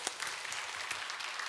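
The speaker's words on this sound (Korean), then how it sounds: "하나님께 영광의 박수 올려드리겠습니다." A church congregation claps together during a Sunday worship service, a brief burst of steady, moderately faint applause from a large group.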